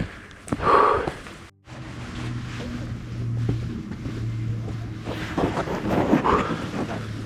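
Strong, cold wind gusts buffet the microphone on La Rhune summit in the Basque Country, with a low rumble and roaring bursts that rise and fall throughout.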